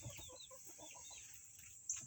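Ameraucana chickens in a backyard coop clucking softly in short repeated bursts, several hens murmuring at once, fairly faint, with a brief sharper sound near the end.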